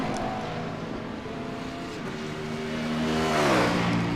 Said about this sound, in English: with fifth place finisher John Wood, the Monster Energy liveried BMW Z4 GT3.